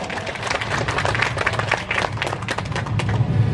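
Audience clapping at the opening ceremony of a national traditional textile exhibition in Indonesia, lively rattling applause with individual claps standing out, fairly close and sustained.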